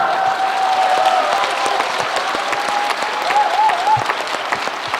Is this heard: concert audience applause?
yes